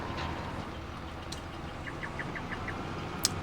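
A machine's electronic chirp alert, like a bird's call, signalling the end of its run; a soft series of six short, evenly spaced chirps over a steady engine drone, followed by one sharp, brighter chirp near the end.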